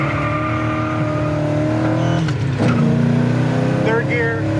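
Engine of a 1968 Pontiac LeMans pulling hard through the gears, heard from inside the sealed cabin as a steady, droning roar that climbs in pitch, with a brief shift partway through.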